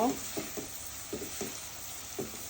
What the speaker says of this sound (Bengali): পেঁয়াজ একটু সময় আমি একটু ভেজে নিব।